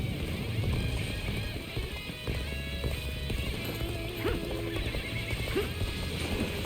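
Horses whinnying and clip-clopping in Dynasty Warriors: Origins, hooves thudding steadily under dense battle noise and game music, with occasional neighs cutting through.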